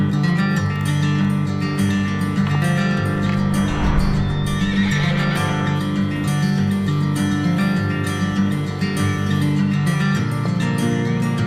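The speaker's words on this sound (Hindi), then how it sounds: "जहाँ ये घोड़े चर रहे थे," Horses neigh and graze near an off-season roadside dhaba on the Bhrigu Lake trek, a whinny rising over a steady outdoor drone with faint hoof clops, no voices.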